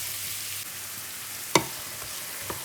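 Mushrooms sautéing in oil in a pan, a quiet continuous sizzle broken by one sharp utensil knock in the middle and a fainter tap afterward.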